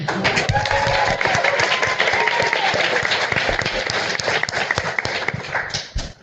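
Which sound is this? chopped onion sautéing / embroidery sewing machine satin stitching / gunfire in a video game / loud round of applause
loud round of applause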